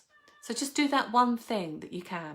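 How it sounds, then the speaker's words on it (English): A pet cat meows loudly and repeatedly close by, the drawn-out rising and falling cries mixing with someone speaking at the same time. "That's my cat, if you hear her."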